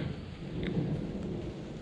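Rain and thunder at an outdoor deck-building site: a steady hiss of rainfall with a low, rolling rumble underneath, fairly loud and continuous, with no voices.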